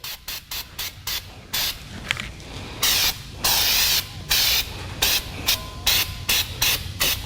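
A Flex Seal aerosol can sprays a thick coat of rubber sealant along a seam. Short hissing bursts come in quick, irregular pulses, close and fairly loud, separated by brief silences.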